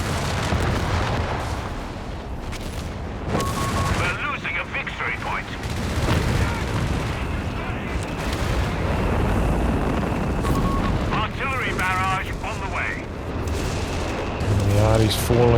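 Artillery barrages in the video game Company of Heroes 3, dense rumbling booms and blasts rolling on continuously at loud level, with steady commentary talk throughout.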